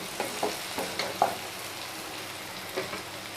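Pigeon meat fries in a pan, a low continuous sizzle with a handful of soft scraping stirs near the start and again near the end, close and fairly quiet with no talk.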